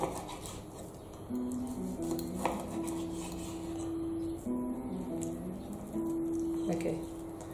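Lamb shank being cut into pieces on a board, with scraping and clinking of a knife against the surface and bone, soft and close, under a steady tonal hum.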